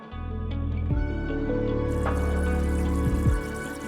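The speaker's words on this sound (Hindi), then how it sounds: "अब तक तो हाथ को पानी के नीचे रख देना चाहिए था।" Tap water runs steadily into a sink over a burned hand, a continuous splashing flow with a few changes in tone as the hand moves under the stream, no voices.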